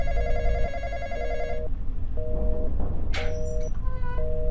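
An electronic telephone bell in the Roblox horror game Intruder rings in repeated bursts, a bright trilling tone that pauses and resumes several times over a constant low background hum.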